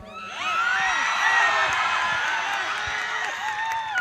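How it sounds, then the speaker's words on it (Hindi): A large crowd at a prophet's religious gathering screams and shouts loudly all at once, a sustained dense wall of high-pitched voices with whoops and cheers that swells and holds for several seconds. "कोई जोर से चीख मार सकता है?"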